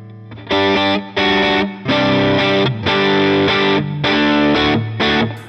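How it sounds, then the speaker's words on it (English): An electric guitar runs through a NUX Masamune overdrive with both drive and boost engaged, chugging out loud, gritty distorted chords in a choppy rhythm with short breaks between strums. "Let's bring the drive back and bring up the boost."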